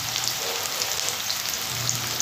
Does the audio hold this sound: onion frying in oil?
yes